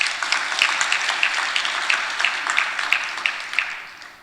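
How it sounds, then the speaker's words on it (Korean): Church congregation applauding the choir after a Gloria hymn, a few seconds of moderately loud, evenly sustained clapping that fades at the end. "박수 한번 쳐주세요."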